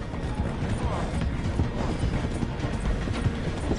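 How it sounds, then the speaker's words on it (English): A train in Red Dead Redemption 2 rumbles steadily as it slows to pass through a station, a dense low mechanical clatter that runs continuously and close by. "The train is slowing down to go through the station."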